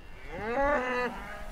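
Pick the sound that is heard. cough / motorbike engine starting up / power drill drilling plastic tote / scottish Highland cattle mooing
scottish Highland cattle mooing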